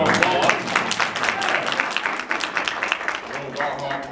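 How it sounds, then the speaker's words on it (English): A crowd in a library audience claps steadily at an event featuring a Frederick Douglass portrayal, dense applause filling the room for several seconds, loud and continuous. "Let's give them a round of applause."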